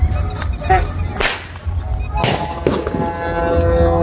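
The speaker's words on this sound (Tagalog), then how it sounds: "Yung mga fireworks." Several sharp New Year fireworks bangs and crackles going off at irregular intervals, fairly close, with faint voices in the background.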